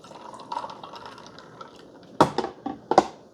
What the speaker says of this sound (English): Here's our glass carafe with our cold brew coffee in it. I'm gonna pour it over ice first,